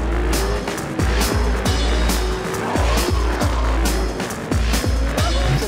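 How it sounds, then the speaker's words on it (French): Cars drifting on a drift track during a tuning show, with revving engines and repeated tire squeals in quick succession, loud and continuous, under background noise. "on a bien sûr une piste de drift juste derrière"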